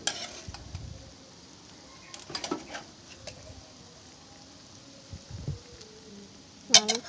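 Pre-fried tempeh is stirred in a pan with coconut milk, a soft sizzle and bubbling running under scattered scrapes and taps of a utensil against the pan, ending in a brief sharper clink.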